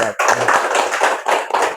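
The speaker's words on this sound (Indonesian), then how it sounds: "Oke, jadi tepuk tangan teman-teman lah." Podcast guests clapping briefly in a small room, a short burst of close, fairly loud claps under overlapping talk.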